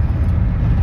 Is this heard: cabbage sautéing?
no